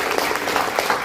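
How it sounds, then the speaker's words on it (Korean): Applause from an audience at a Korean meeting on long-term care facilities, greeting a senior vice president: a dense, steady patter of many hands clapping at moderate loudness for about a second. "오늘 수석 부회장님께 큰 박수 한번 부탁드립니다."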